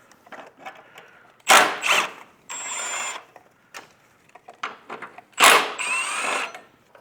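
Ratchet and power tool working the motor mount bolts on a 2005-2010 VW Jetta Mk5, short loud bursts of whirring with a high squeal and quiet clicks between them.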